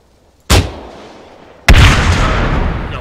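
Two heavy booming weapon blasts go off in the video game Arma 3, one sharp report followed about a second later by a louder one with a long rumbling tail, and no speech.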